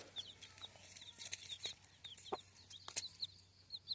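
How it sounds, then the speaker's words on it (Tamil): A hen clucks nearby in short, quiet bursts, with chicks peeping high and repeatedly around her in a calm, faint scene. "இதான் என்னோட கோழி"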